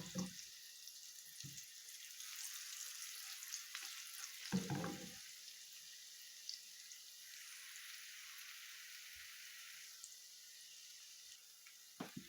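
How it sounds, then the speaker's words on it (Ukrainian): Syrnyky, Ukrainian cottage cheese pancakes, fry in oil in a pan with a faint, steady hiss and sizzle, broken by a few soft clattering bumps near the start and middle, quiet and close with no talk. "Наливаю в неї масло і смажимо наші сирники до зарум'янення, до готовності."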